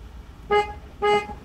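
Two short car horn honks in traffic, loud and close, evenly spaced about half a second apart, with a faint low road rumble between them.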